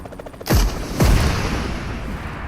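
Two loud gunshots about half a second apart in PUBG Mobile, each a sharp close crack with a booming tail that rings out into a steady reverberant background.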